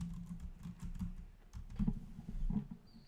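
Rapid, uneven key clicks from typing on a computer keyboard, quiet and close, with short pauses between bursts and no voices.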